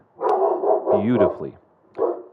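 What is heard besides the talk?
dog barking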